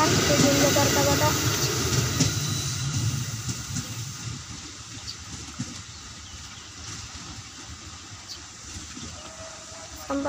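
A JR 205 series KRL commuter electric train rolls past, its broad rumble and hiss loud at first, then easing off as it moves away, with faint voices underneath.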